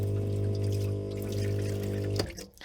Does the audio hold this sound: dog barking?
no